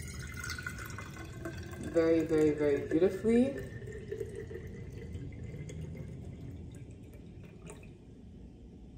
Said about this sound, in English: I'm going to pour the rice water in here